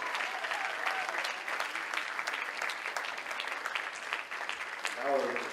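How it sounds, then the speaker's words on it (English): A crowd claps steadily for a fraternity group at a Taste of Africa student event, continuous moderate applause with voices and cheering mixed in and a brief speaking voice near the end. "Clap it up for them."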